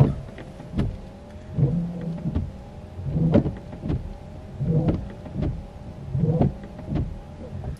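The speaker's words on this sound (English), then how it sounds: "Front wiper, low operation." A car's front windshield wiper runs at low speed, switched on from a scan tool, with a whirring motor and regular sweeps about every second and a half, alone and fairly close.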